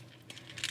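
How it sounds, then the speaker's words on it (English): Plastic butterfly joints on a Mortal Kombat 11 Liu Kang action figure pop and click softly, with a few quick close-up clicks that grow denser and louder toward the end. "If you can hear that popping and clicking."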